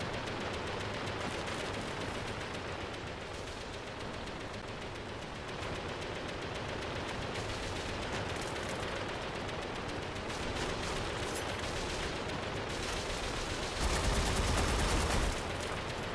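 A video game minigun fires continuously, a rapid, dense unbroken stream of shots that roars steadily throughout and swells louder near the end.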